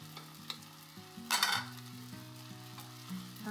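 Fried rice with shrimp and sausage stir-fried in a hot pan over medium-high heat, a steady close sizzle with scattered scrapes and one loud burst of clattering spatula action midway, no talking.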